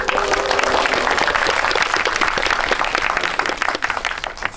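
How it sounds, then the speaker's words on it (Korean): A large audience applauds at a film talk event for the Korean movie Hunt: dense, steady clapping from a crowd with no voices, fading slightly toward the end. "박수 쳐줘서 고맙습니다."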